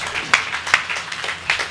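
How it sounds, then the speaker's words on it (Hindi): Scattered audience clapping at a Hindi poetry and literary gathering, a few sharp claps standing out over a thin, uneven patter for a moment, with no voices heard. "तालियां बजाइए"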